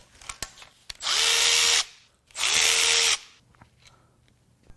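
Power tool unbolting timing parts on a worn-out BMW/Mini Cooper N14 engine with 107k miles, two whirring bursts of about a second each separated by a short pause, close and loud, with light clicks and handling noises around them.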